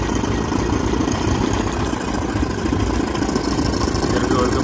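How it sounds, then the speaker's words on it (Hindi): Steady engine of a Royal Enfield Thunderbird motorcycle held at a slightly raised idle, running continuously and loud up close with a low, even throb and no break. "हल्की सी रेस तेज कर देते हैं इसकी"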